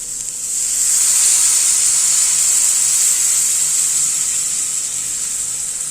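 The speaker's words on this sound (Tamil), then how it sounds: "புளி கரைச்சி வச்சுருக்கோம், அதை மேலால் அப்படியே ஊற்றிக்கலாம்." Tamarind water poured into a hot pan for a Tamil vathal kara kuzhambu gives a loud, steady high hiss and sizzle that swells quickly and holds for several seconds.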